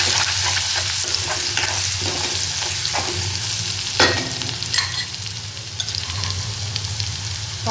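Hot oil sizzles as cumin, asafoetida and a ginger, green chilli and garlic paste fry in a pan, a continuous crackling hiss with occasional sharper pops and stirring scrapes.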